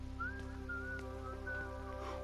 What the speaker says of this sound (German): irgendjemand Fremdes pfeift hier im Gang rum